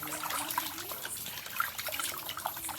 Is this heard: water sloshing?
yes